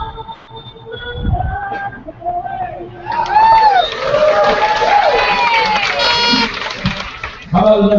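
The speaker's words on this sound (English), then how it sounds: "How about another round of applause for Jasmine Butler, everyone?" Crowd noise at a baseball game between the Mat-Su Miners and Anchorage Glacier Pilots, with broadband cheering and applause swelling after a quiet opening, mixed with whistles and shouts from the stands and holding loud until the end.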